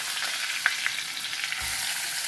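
Garlic and onion fry in hot oil with a steady sizzle, a few sharp pops and crackles and a soft low bump near the end, no talking.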